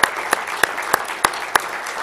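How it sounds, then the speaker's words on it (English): At a university hall of fame banquet, applause rings out in a roomy hall, with crisp, evenly spaced claps standing out about every third of a second above a softer wash of hands. "let's give another big round of applause to this year's induction class"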